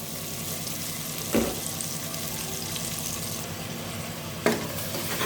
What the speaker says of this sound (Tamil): தயிர் ஊற்றி இப்போது நல்லா ஒரு மிக்ஸ் கொடுப்போம்.